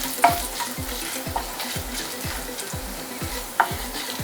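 Green chilies frying in a pan for a South Indian dish, with a continuous close sizzle broken by regular stirring strokes and two sharper utensil knocks, no talking.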